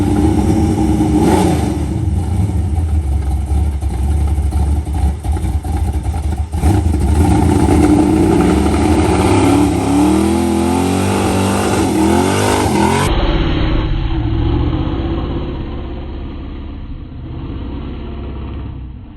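Car fitted with new BMR suspension accelerating hard down the road, the engine revving up through a loud climbing pull before cutting off and settling to a quieter cruise.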